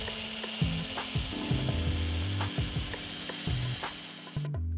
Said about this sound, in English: we can now pre-sand all of the pieces before moving into dimensioning and joinery